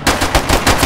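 Rapid automatic hip-fire gunfire in the survival video game DayZ Standalone, a loud close burst of about five shots in quick succession with no talking.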